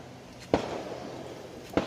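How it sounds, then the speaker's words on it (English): Two sharp, distant fireworks pops set off by a neighbor, about a second apart, break a quiet background. "Neighbor shooting off damn fireworks."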